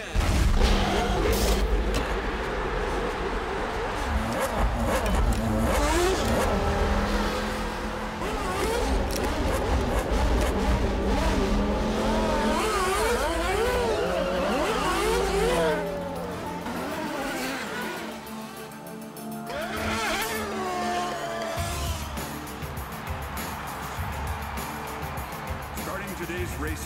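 Race car engines at the Toronto Grand Prix, a dense roar of revving motors with rising and falling pitch sweeps and tire noise, loud throughout and mixed with voices and music.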